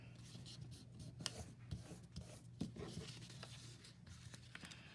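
A 6x6 sheet of paper is folded and creased by hand to form a mini envelope, making soft, close rubbing and rustling with small taps as the fold is pressed down, faint and continuous.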